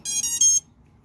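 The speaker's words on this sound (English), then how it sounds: "Hear that buzzer kind of started to chime" A small electronic buzzer on a glide build sounds when its battery is plugged in, giving a short, shrill two-part chirp lasting about half a second before cutting to near silence.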